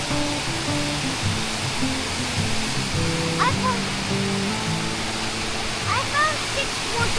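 A waterfall at Waterfall Gully in Adelaide rushes steadily as a continuous broadband roar, with brief bird chirps over it.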